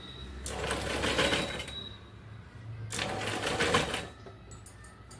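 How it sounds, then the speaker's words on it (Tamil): A sewing machine stitches lace onto a blouse in two bursts of rapid mechanical whirring, each lasting about a second and a half with a pause between, close and moderately loud, ending with a few faint clicks. "லேஸை வந்து கொஞ்சம் கொஞ்சமாக பிடிச்சிக்கிட்டு நான் ஸ்டிச் பண்ணுறேன்"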